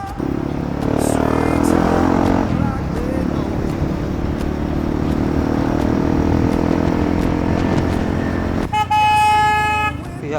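A loud motorcycle on a road near a flyover gives a steady, close engine drone for the whole stretch, and a sharp horn blast sounds near the end.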